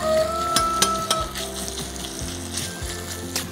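Bacon bits fry with a splash of added oil in a home kitchen pan, a steady close sizzle with scattered crackles and pops throughout, no talking over it.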